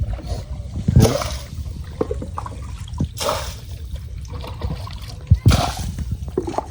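Water sloshes and splashes as it is bailed out of a boat with a bucket, in three distinct heavy splashes amid lighter dripping and trickling, with voices talking nearby.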